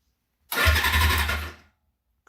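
A Suzuki GS550 cafe racer motorcycle engine cranks and catches in one loud, close burst of about a second, with a steady low rumble that fades out, and no talking.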